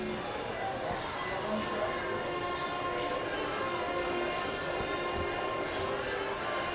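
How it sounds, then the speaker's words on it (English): A big train whistle blows near a high school football stadium, a steady, sustained horn tone that fills the whole stretch over crowd and field noise. "They got a big train whistle, I guess, what blows out there, isn't it?"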